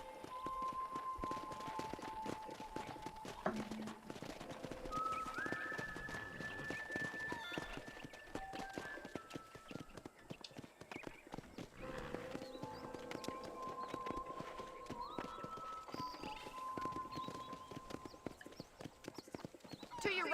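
Horse hooves clip-clopping in a steady trot in the video game Red Dead Redemption, with a whinny and a light musical backdrop, continuous and fairly close.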